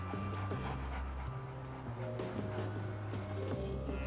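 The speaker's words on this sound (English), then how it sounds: "The police bring out bomb-sniffing dogs." Police bomb-sniffing dogs whimper, pant and give small yips over a steady low rumble, with no talk.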